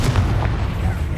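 A Confringo spell blast from Hogwarts Legacy on Xbox Series X makes a loud, sustained booming rumble that fills the whole moment, heavy and low with a few bright crackling bursts.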